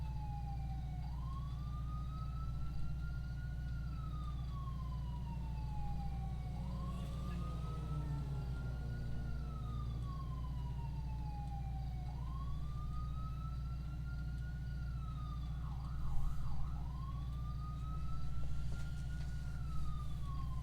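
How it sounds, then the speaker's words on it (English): A police siren from the GTA 5 video game wails in slow rising and falling sweeps over a steady engine drone, with a brief burst of rapid yelping partway through. "Where is that"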